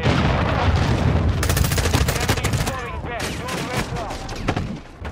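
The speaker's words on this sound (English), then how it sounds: "Everything's exploding." Explosions and gunfire in Call of Duty: Modern Warfare II, loud rapid bursts and heavy booms packed together, then thinning into scattered shots and rumbling blasts near the end.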